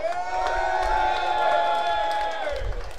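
A pub gig audience at The Monarch, Camden roars and whoops for the guitar players, a sustained loud cheer with one long high shout carried over it and light clapping, tailing off near the end.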